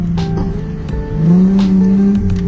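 Chrysler Crossfire 3.2L V6 engine in manual mode, heard from inside the car with the windows open, steady near drone that swells and rises in pitch as it accelerates over a couple of seconds.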